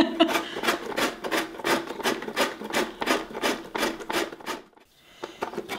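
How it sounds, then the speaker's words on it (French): Citron (cédrat) peel scraped across a grater in a steady run of about a dozen rhythmic rasping strokes, close and fairly loud, stopping briefly near the end before one last stroke. "Plutôt que gratter, râper"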